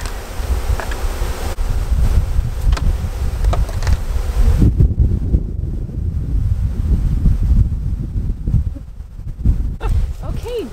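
Honeybees buzz steadily during a backyard beekeeping workshop, with a dense, continuous hum up close and gusty wind rumble on the microphone throughout.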